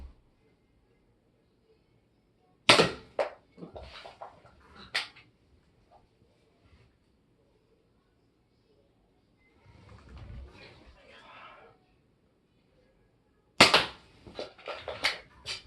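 A Nerf toy blaster firing foam darts indoors at a wall shelf, with a few sharp clicking shots spaced far apart and soft handling noises between them.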